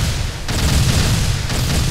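Heavy tank-fire explosion in the Arma military game: a dense, loud boom that swells near the half-second mark, sustains a thick rumble, then surges again briefly toward the end.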